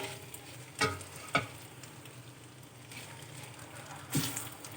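Pasta with mushrooms for an Asian-style aglio olio being tossed in a pan, with a few scattered scraping and clattering knocks over a faint low sizzle and no talking.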